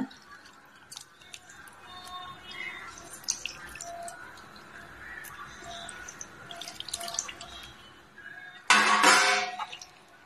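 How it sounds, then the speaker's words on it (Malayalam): Nethal anchovies drop into a simmering pot of Kozhikode-style curry, making wet drips and squishy plops over a quiet bubbling. A brief, louder splash-like hiss comes near the end. "ഇനി ഇതിലേക്ക് ഇതാ നെത്തല ഇടുകയാണ്."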